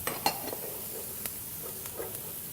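Onion and minced shallot frying in rendered pancetta fat in a pan, giving a soft steady sizzle with occasional stirring clinks and scrapes, close and fairly quiet with no talking.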